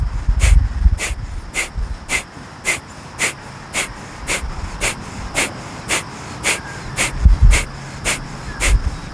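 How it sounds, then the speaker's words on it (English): Rhythmic, forceful breaths through the nose during a yoga session, sharp pulses repeating about twice a second, close and steady with no talk. "Let's take one breath in and out through the nose to get on the same page."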